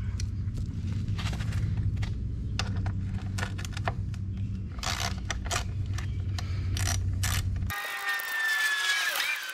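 Hand tools remove the skid plate cover from a muddy dirt bike, heard as close ratcheting clicks, metallic scrapes and clanks in irregular bursts, ending with a brief sharp squeal.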